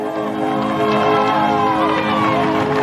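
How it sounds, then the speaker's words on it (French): Roadside crowd cheering a cyclist climbing the Col d'Aubisque, a steady dense roar of many voices with whoops and shouts rising and falling, loud and close throughout. "La foule a compris. Elle exhorte Jacot le courageux."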